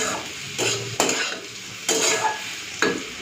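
Bitter gourd and potato fry on a high flame, a steady sizzle broken by four loud scraping stirs of a spatula against the pan, close and with no voices.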